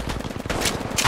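Rapid automatic gunfire in the mobile shooter Apex Legends Mobile: a close, loud, continuous burst of shots in tight succession.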